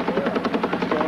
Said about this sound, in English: They had a helicopter overhead, keeping the whole area under surveillance.